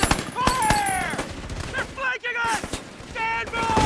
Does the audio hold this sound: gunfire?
yes